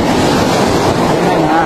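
Ocean surf on a provincial beach gives a loud, constant wash of waves, heavily mixed with wind buffeting the microphone across the short stretch.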